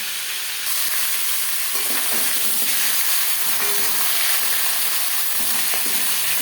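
Rohu fish head pieces frying in hot oil in a pan, a loud, steady sizzle and hiss that runs throughout, with faint stirring clatter and no voices.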